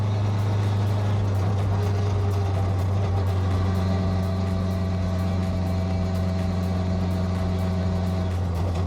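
Superbike engine fitted into a Peugeot 106, driving at speed with a loud, steady, high-pitched engine drone and road roar throughout, close to the microphone.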